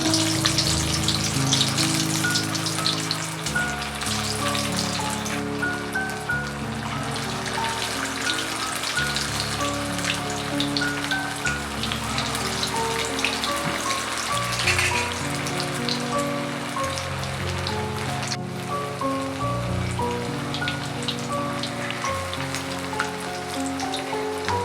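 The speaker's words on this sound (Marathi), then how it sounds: "आता मी यामध्ये हे वडे फ्राय करते." Vadas fry in hot oil in a kadai with a steady, dense crackling sizzle like rain, continuous and fairly loud throughout without any talk.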